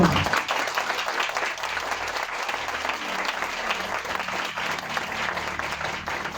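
A congregation in a church service applauds loudly and continuously, a dense, steady wash of many hands clapping that lasts throughout.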